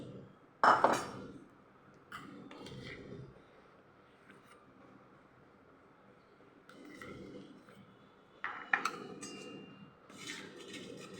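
Clinks and scrapes of a spoon stirring chocolate syrup with butter and mix powder in a pan, coming in separate bursts with quiet gaps, one clatter near the start and another late on, faint and close.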